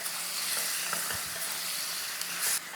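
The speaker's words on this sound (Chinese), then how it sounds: "那炒一炒上色了嘞" Three-cup chicken stir-fries in a clay pot, a constant bright sizzle with scattered scraping and stirring knocks from the spatula, close up and without any talking.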